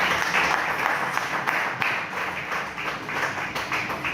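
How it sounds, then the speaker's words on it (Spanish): Church congregation applauding together, a dense, steady wash of clapping that holds at a near, fairly loud level for the whole stretch with small swells. "Vamos a brindarle un fuerte aplauso a nuestro Dios."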